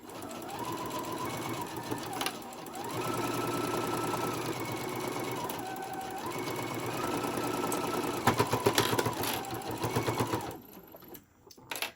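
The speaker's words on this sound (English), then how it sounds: "I keep sewing all the way around my corners" A sewing machine stitches steadily around the corners of a ruffle-trimmed tote bag, running in long close bursts with brief pauses as the fabric is turned, then a few rattling clicks and a stop at the end.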